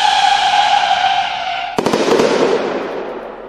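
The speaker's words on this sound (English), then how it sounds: "the explosion and the sound of the screaming is pretty good" A whistling launch gives way to a sharp burst of several rapid firework cracks from a fireworks cake in Fireworks Mania, followed by a fading crackle and hiss, loud and close.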